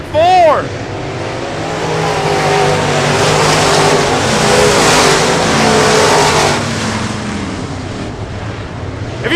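Late model stock cars race at Texana Raceway Park, a loud sustained roar of several engines rising and falling as the pack passes close by, with an announcer talking over the noise.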